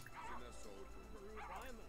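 A pet dog in The Sims 4 barks in two short bursts of yips, the second a little louder, close by over faint game background.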